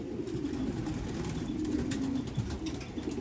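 Pigeons coo softly in a loft, low murmuring calls layered over quiet background noise, with faint rustling and no talking.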